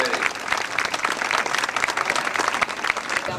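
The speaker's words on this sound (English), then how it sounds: "How about a nice round of applause for this young lady?" A crowd at a rodeo queen pageant breaks into steady, dense applause, many hands clapping together close and loud for the full stretch, with scattered cheers mixed in.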